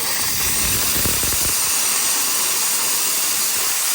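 A 240-volt Chief Steamer 155 blasts steam from its nozzle in a loud, continuous, broadband hiss held close for the whole stretch, with no talking.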